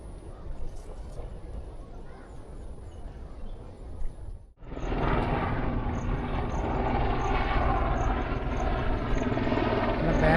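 A helicopter flies over Bekal Fort, Kerala. A softer distant rotor drone gives way to a much louder, close, steady roar that cuts in abruptly midway and stays. No talking.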